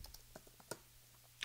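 Keys clatter on a Mac computer keyboard, a short quiet burst of irregular close taps with a couple of sharper strokes.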